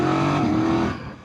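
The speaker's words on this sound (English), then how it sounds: "Why did that Boss 302 sound like a V6?" A Ford Boss 302 drives past on the road, its engine note loud and steady for about a second before fading quickly as it moves away, with no talking.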